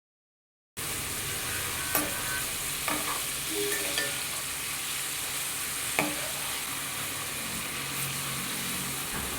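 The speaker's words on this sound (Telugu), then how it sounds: "ఫ్లేమ్ని లో టు మీడియం అడ్జస్ట్ చేసుకుంటూ స్లోగా పన్నీర్ని ఫ్రై చేసుకోవాలి." Paneer pieces fry in hot oil over a low to medium flame, giving a steady, even sizzle with a few sharp pops and spatula clicks throughout.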